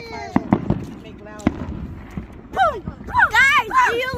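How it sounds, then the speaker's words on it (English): Fireworks at a family outing with ice cream: a few sharp pops and cracks early on, then rising and falling whistling tones, mixed with voices. "Do you hear fireworks, guys?"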